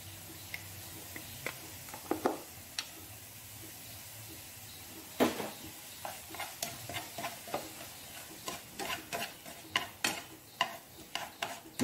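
Seasoned filling with black pepper and MSG being stir-fried in a pan: scattered spatula scrapes and taps over a faint, low sizzle, moderately close, with no talk.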